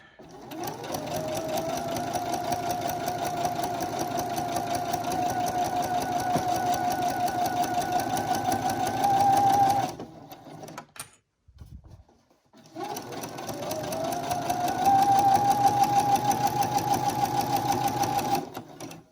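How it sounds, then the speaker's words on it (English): A sewing machine fitted with a walking foot stitches through several layers of bag fabric, running steadily for about ten seconds, pausing briefly, then running again, with a soft speaking voice underneath. "what's so nice about the walking feet is that it just brings all the layers evenly through the machine"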